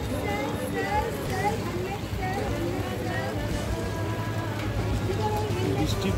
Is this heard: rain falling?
yes